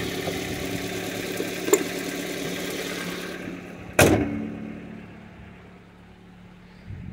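A 1997 Toyota Starlet Glanza V engine idles quietly and steadily, mostly induction noise with a little exhaust, with a sharp thump partway through like a door.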